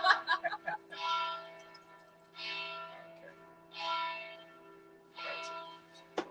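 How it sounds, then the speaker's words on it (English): Church bells in Venice toll in slow, evenly spaced strikes, each ringing out with a long resonant hum, distant and echoing. "as you can hear from the church bell towers ringing"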